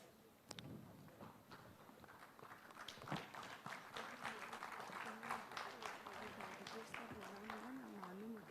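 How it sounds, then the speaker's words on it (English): Applause fills a hall during a felicitation ceremony at a health talk. Dense, continuous clapping runs under a speaking voice and builds slightly toward the end. "With a huge round of applause."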